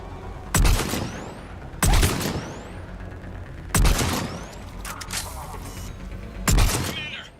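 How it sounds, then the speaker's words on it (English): Mortar fire in the Mass Effect 3 battle with Cerberus forces: five heavy booming impacts land at fairly regular intervals, each a loud thud with a crackling, debris-filled tail, over a steady background rumble. "Commander, we're getting a lot of mortar fire."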